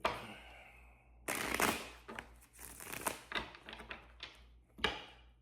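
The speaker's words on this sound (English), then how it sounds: "All right, let's shuffle." A deck of tarot cards being shuffled by hand, heard as close, quiet bursts of riffling and soft tapping clustered in several short runs with pauses between.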